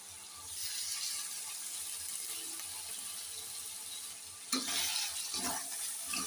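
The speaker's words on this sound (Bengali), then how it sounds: "মাথাটাকে দিয়ে আমি ভালো করে মশলার মধ্যে কষিয়ে নেব।" A fish head sautés in spice paste for a Bengali kochur loti dish, giving a steady close sizzle with stirring and a brief louder hiss of moisture near the end.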